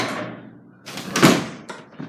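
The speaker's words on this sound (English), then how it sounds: "I gotta close this garage door" A garage door rumbles and clatters as it is pulled shut, a loud close scraping roll ending in a couple of knocks, with rain in the background.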